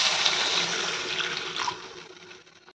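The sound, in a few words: water poured into pan while cooking ilisi fish curry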